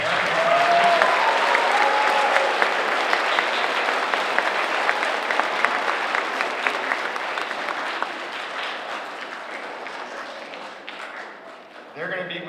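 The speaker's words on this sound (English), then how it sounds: "let's give them the biggest round of applause yet to your parents." Audience applause at a fifth-grade moving-up ceremony, a broad sustained wash of many hands clapping that stays loud for most of the stretch, slowly tapering before a voice returns at the end.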